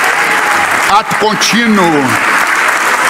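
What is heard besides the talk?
church congregation applauding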